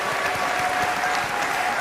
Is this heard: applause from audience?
yes